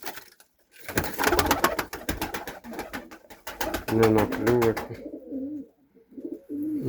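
Pakistani pigeons coo in low, throaty bursts near the end, while a person talks through the earlier part of the clip.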